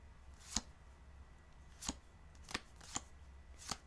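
A deck of tarot cards being shuffled, five short sharp riffles spaced about a second apart, close and quiet with no talking.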